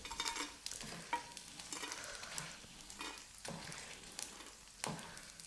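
Gond (edible gum) roasting in ghee in a pan, sizzling steadily with repeated sharp scraping stirs about once a second, close and moderately loud with no voices.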